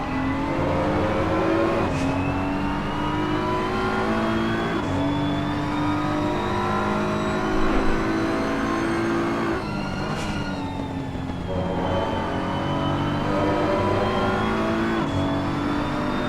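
Race cars in a video game driving at Imola, with steady, loud engine whine and revving throughout, gear-shift pitch drops and several cars passing close together.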